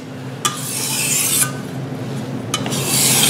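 A Chinese vegetable cleaver drawn across diamond sharpening stones in even strokes, each pass a gritty rasp, with sharper scrapes marking the ends of strokes, close and clear with no talking.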